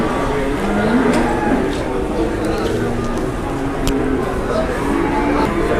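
A jumbo one-ton cow at a busy livestock market, with low lowing sounds mixed into a dense murmur of crowd chatter and nearby voices, steady and close throughout.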